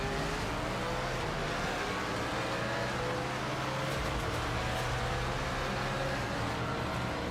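Race car in the Le Mans Ultimate racing game drones with a steady engine hum under broad wind and track noise, quiet and continuous with no talk.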